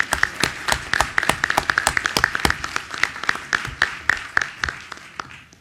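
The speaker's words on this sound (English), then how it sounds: "First, a big round of applause." A small audience at an academic talk gives a round of applause, sparse and distinct hand claps in an uneven rhythm that thin out and fade toward the end.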